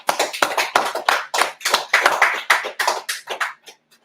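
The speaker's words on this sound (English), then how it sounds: "Clap it up." A small group claps in a religious scripture class, quick uneven bursts of hand claps forming a short round of applause that tapers off after about three and a half seconds, fairly close and without talk.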